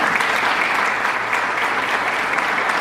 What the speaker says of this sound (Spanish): ¿Cuánto le damos aplauso al Señor?